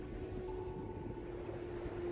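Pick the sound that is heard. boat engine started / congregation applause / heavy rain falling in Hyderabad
boat engine started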